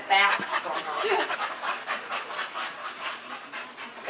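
A boxer puppy pants and whimpers close by in a home, with soft breathy panting and a few faint whines running through the clip.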